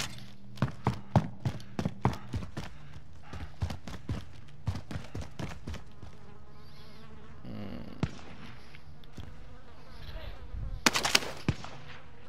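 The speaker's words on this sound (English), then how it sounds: "Shooting at the top of airfield" Call of Duty: Modern Warfare gunfire at the top of an airfield: a rapid string of sharp single shots, then scattered isolated cracks and a final dense burst, moderately loud against a quiet background.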